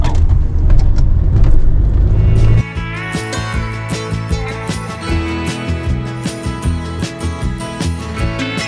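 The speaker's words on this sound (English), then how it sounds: "So we're just driving to Wells from here." A car drives along a coast road to Wells-next-the-Sea, with a loud, close rumble of road and engine noise that shifts midway into a steadier hum with music playing inside the vehicle.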